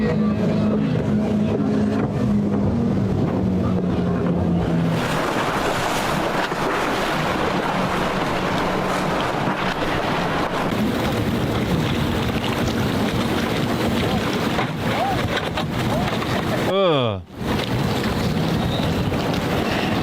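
A boat motors along on open water, its engine droning beneath constant wind buffeting and wave wash, loud and close throughout, with a brief dropout near the end.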